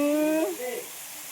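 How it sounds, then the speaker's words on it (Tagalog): Water pours down like rain at a river resort in San Rafael, Bulacan, making a steady broadband hiss that runs through the whole moment, with a brief exclaiming voice near the start. "May umuulan dito ng tubig"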